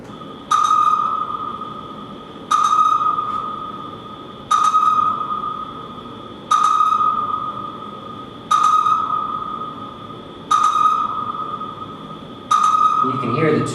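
Sonar-like echolocation pings at 1.5 kilohertz repeat seven times at steady two-second intervals, each a sharp loud pulse with a ringing tail and faint echo, over a continuous low background hiss.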